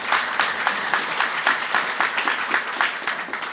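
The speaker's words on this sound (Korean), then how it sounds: "큰 박수를 한번 다시 보내주시면 고맙겠습니다" Audience applause at an award and scholarship ceremony, a steady, dense clapping from a large crowd that fills the hall continuously without pause or voices.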